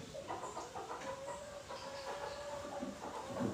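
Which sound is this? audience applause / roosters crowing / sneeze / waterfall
roosters crowing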